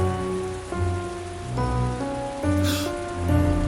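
Steady rain patters on a surface, with a sustained tonal, music-like hum running underneath throughout.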